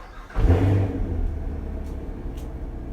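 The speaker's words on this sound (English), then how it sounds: "You can hear the car?" A car engine revs sharply, then settles into a steady low rumble that continues throughout at moderate volume.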